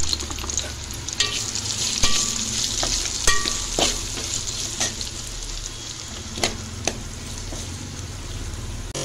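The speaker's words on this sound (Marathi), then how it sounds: "त्याच तेलामध्ये आपण कापून घेतलेले कांदे फ्राय करून घेणार आहोत।" Sliced onions fry in hot oil for a paneer masala, giving a steady close sizzle with repeated sharp scrapes and clinks of a stirring spoon, and no voices.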